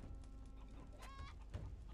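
A chicken clucking in the video game Gothic 3, a short burst of bird calls near the middle, fairly faint over a low game soundscape.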